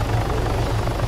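A helicopter in the video game Arma 3 Altis Life gives off a loud, close, continuous rotor chop and engine drone, steady throughout with no voices over it.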